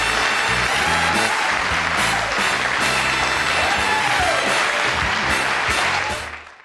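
Sustained applause from a large television studio audience, steady and full throughout, fading out at the very end.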